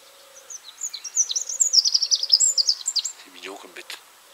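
Wrens singing near a river: rapid high trilling phrases and chirps, fairly close and clear, over a faint low hum, ending with a brief burst of other sound.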